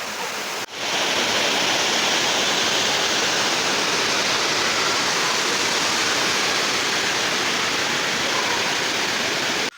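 Palaruvi waterfall roars as a dense, steady wash of falling water, loud and close, filling the whole span without pause after a brief softer opening moment; no voices.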